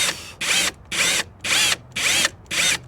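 A power drill bores through the rear bumper of a Hummer EV SUV, running in five steady, evenly spaced bursts of high whine, each lasting about a third of a second, close and loud with no voices.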